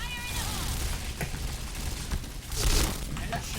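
Dense, crackling Kriss SV gunfire from a video game rattles on in bursts, with a louder cluster of shots near the end, set against steady background noise.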